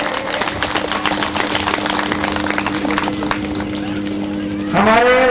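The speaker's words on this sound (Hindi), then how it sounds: "अभी जोरदार तालियां बजनी चाहिए।" Audience at a devotional Sita Ram kirtan event applauding with steady, dense clapping, a sustained drone tone beneath, then a swelling melodic instrumental phrase rises at the close.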